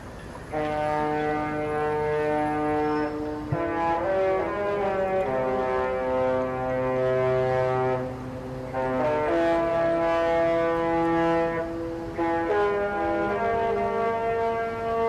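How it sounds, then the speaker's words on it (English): Cruise ship horn sounding at departure from the Port of Southampton: a loud, deep, sustained chord of blasts, held for long stretches with brief breaks, booming close across the harbour. "Normally about now we get a customary honk."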